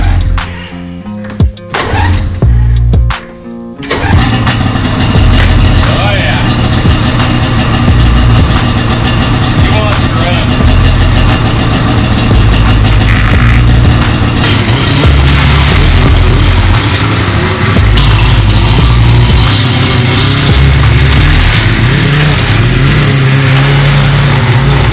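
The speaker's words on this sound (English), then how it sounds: "listening to those snow sleds run" Snowmobile engines run and rev close by, a loud, rough rumble that swells and settles over a long stretch, with a few sharp bangs near the start.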